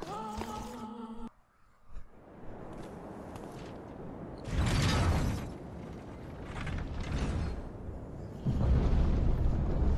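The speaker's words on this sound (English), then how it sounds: "we're gonna go right to the back and hit this lever" A lever being pulled in the dark action game Bloodborne sets off a heavy mechanism, with loud grinding, rumbling bursts and clanks that rise in waves, close and dominant, after a brief quieter pause.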